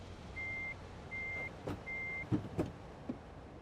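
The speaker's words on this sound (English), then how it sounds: "Not sure why that's beeping." Reversing alarm on a truck in American Truck Simulator sounds three evenly spaced electronic beeps, followed by a few short clunks and knocks from the idling vehicle.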